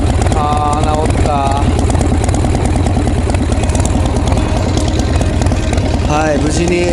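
A Harley-Davidson Sportster with an HSR carburetor idles loud and close right after starting, its lumpy throbbing beat steady throughout, with brief voices speaking over it.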